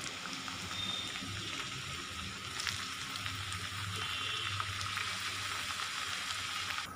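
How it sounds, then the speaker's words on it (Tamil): Smiley-face potato snacks sizzle and crackle steadily in hot oil over a low flame, a constant close frying hiss with no talking. "இப்போ பாருங்கள், ஃப்ரை ஆகிட்டு இருக்குது."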